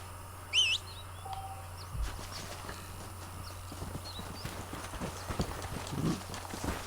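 Horse hooves clip-clop at a steady walking pace in the video game Red Dead Redemption, with birds chirping around them, a brief whinny, and a faint voice in the background.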